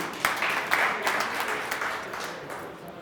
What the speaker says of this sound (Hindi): आदरणीय विनोद मिश्रा जी के सम्मान में एक बार जोरदार तालियां होनी चाहिए।